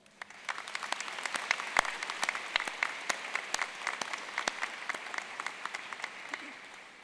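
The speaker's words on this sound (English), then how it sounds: "let us show our thanks with a round of applause" Applause from the audience at a university convocation: a steady, fairly distant wash of many hands with crisp individual claps popping out, continuing evenly for several seconds before easing slightly.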